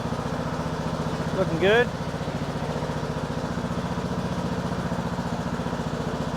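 A Briggs & Stratton 19 horsepower engine on a John Deere 100 Series lawn tractor idles steadily with an even, rapid putter, while someone briefly speaks over it.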